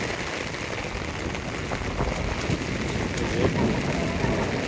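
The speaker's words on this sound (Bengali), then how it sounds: "বৃষ্টি হইতেছে, অনেক বৃষ্টি" Heavy rain pours down in a steady, dense hiss with no breaks, and a voice speaks briefly over it.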